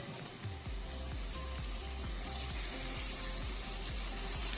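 Chopped onions frying with ginger-garlic paste in a pan for Madurai-style chicken biryani, a steady close sizzle with faint periodic knocks of stirring underneath, no voices.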